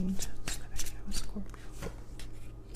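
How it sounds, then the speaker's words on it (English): Tarot cards are shuffled with quick riffling flutters and soft slaps, several brisk passes close by, while a voice talks quietly alongside. "That was a sloppy shuffle."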